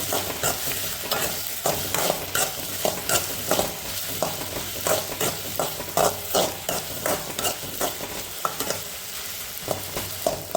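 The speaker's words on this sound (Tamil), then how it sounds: "இந்த வெண்டைக்காய் கூட நல்லா மிக்ஸ் பண்ணிக்கணும்" Okra with salt is stirred in a pan, a close, busy sizzle of frying broken by regular scraping strokes of a spoon against the metal. The strokes repeat through the whole stretch, and no one speaks.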